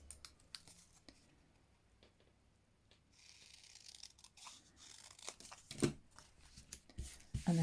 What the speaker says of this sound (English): And then snip that off like that.